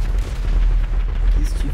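Incoming gunfire in a video game forms a dense, booming barrage with rapid overlapping shots over a heavy low rumble. Voices are faintly mixed in.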